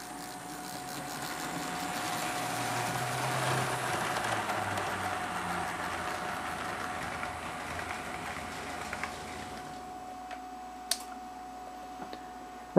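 Atlas Conrail U36C and C30-7 model locomotives running along a home layout, a steady faint motor hum with fine rhythmic ticking of wheels over rail joints, fading toward the end before a few sharp clicks.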